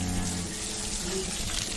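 Water is poured over a cow while it is bathed, a steady splashing gush running continuously and close by without any break.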